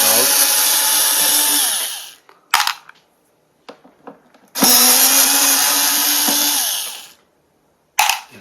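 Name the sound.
screws being unscrewed from a Korg Triton Le keyboard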